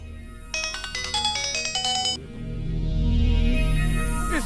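Mobile phone ringtone plays loudly as a repeating electronic melody of bright pulsed tones for about two seconds, then cuts off, leaving a murmur of background noise from a rural political gathering.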